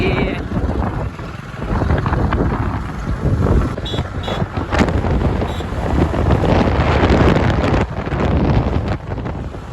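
Strong, continuous wind buffets the microphone while riding a motorbike on the road to the Sangwari Mataji temple, a loud, rough roar that swells and dips throughout.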